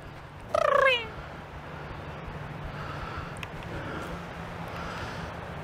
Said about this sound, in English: Was that the bastard cat?